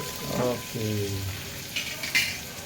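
Ginger, garlic and fresh curry leaves fry in oil in a pan, a soft low crackle and sizzle beneath a brief voice, with a couple of sharper spatters near the end.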